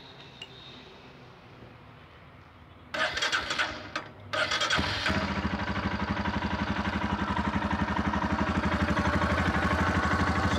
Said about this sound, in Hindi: एक बार मैं इसका स्टार्ट करके इंजन नॉइज सुना देता हूँ।